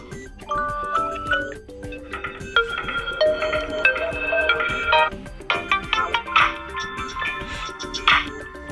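Several short pre-installed Samsung Galaxy F13 ringtones play one after another, chiming melodic tones and bright beeping patterns, each stopping abruptly as the next begins.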